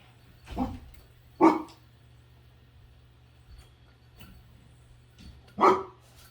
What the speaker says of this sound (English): Can't blame a dog for barking.